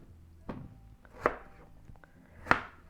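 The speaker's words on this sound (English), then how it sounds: "So I'm just roughly cubing these up." A knife roughly cubing potatoes for mashed potatoes on a cutting board, three distinct chops spaced about a second apart, close and fairly quiet, with no talking.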